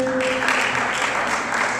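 An audience at a school multicultural day event claps together in a dense, sustained burst of applause, loud and continuous throughout.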